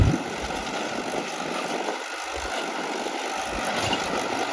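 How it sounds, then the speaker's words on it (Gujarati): Two Mahindra Bhumiputra tractors, a 2014 and a 2023 model, run side by side at 1400 RPM, giving a steady, continuous engine drone with low rumbling pulses and no talk. "તો બંને ટ્રેક્ટર ચાલુ કરી દીધા હે અને બંને 1400 RPM ઉપર મૂકી દીધા હે"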